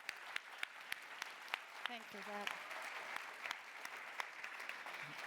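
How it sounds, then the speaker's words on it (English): Audience applause for panelists at the close of a Latinas in STEM panel event, a steady wash of many hands clapping with a brief spoken thank-you over it. "So how about a round of applause for our panelists?"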